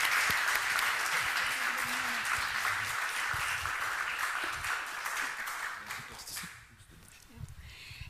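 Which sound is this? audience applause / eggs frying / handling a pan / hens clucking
audience applause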